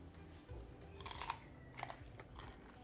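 Close, quiet crunching and chewing as someone bites into crispy Chinese salt and pepper shrimp (prawns), a few distinct crisp bites spread over a couple of seconds against low background hum.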